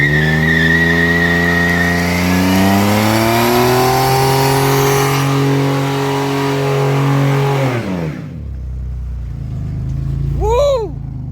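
A Camaro/Firebird with an open differential revs hard during a burnout: a loud, sustained engine roar climbs in pitch for several seconds with tire noise, then cuts off abruptly, leaving a brief shout and faint background sound.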